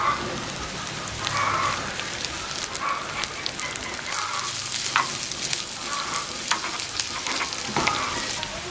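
Onions frying in hot oil for a dried prawn sambal, a loud, dense, continuous crackling sizzle like heavy rain, with faint stirring scrapes, close up and without talk.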